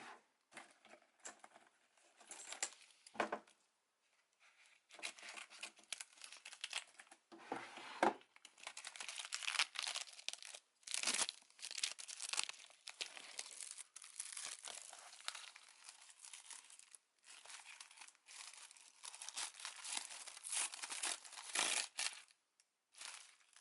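Plastic packaging around a Kiss of Life lightstick being crinkled, torn and handled at close range, with quiet scattered rustles and crackles that come in irregular bursts over about twenty seconds.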